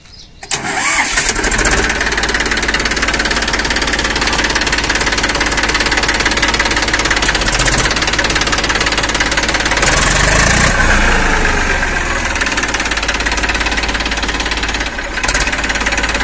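A used 2020-model tractor's engine cranks and catches almost at once, then settles into a loud, steady knocking idle close by that runs on without a break.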